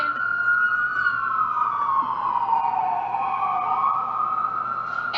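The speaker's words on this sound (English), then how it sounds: "there's an ambulance going by right now" An ambulance siren passes close by, one loud sustained wail that slides down and back up in pitch over a few seconds, with faint traffic rumble underneath.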